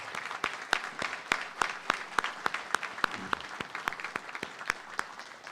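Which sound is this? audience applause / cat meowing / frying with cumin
audience applause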